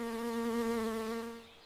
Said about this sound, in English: That is a bee.